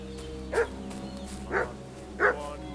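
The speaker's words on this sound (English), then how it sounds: "What's that dog making such a fuss about?" A dog in the video game Kingdom Come: Deliverance II barks three times at a steady spacing, somewhat distant over a low ambient hum.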